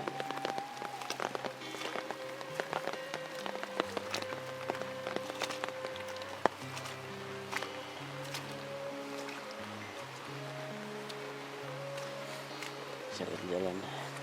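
Heavy afternoon rain pours steadily over a rural village, a dense continuous patter on surfaces with a low hum beneath and voices talking over it.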